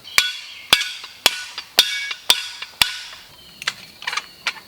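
Folded military entrenching tool used as a hammer: a steady series of six sharp, ringing metallic strikes about half a second apart, close up, followed by a few lighter, scattered taps.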